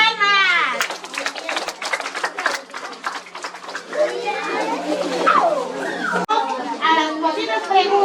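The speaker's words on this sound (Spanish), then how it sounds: "¡Buenas palmas!" Hands clap in a burst of scattered claps among children's voices and chatter at a school gathering, with lively talking carrying on after the clapping fades.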